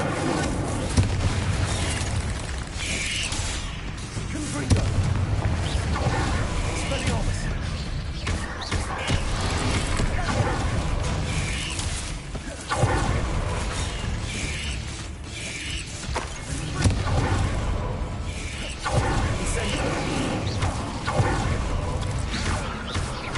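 Spell blasts and crackling magical explosions from the video game Hogwarts Legacy, set in caves, rumble continuously with repeated booming bursts over dense game noise, with a voice shouting spell names.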